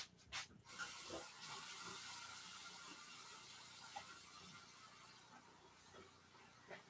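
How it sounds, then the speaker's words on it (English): Hands being washed under a running sink tap: a brief clatter, then a faint, steady hiss of flowing water that continues to the end. "I got to wash my hands."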